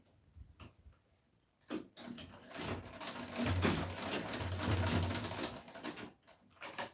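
A sewing machine stitches dress fabric in a rapid mechanical run lasting several seconds, flanked by a few sharp clicks, close and moderately quiet with no voices.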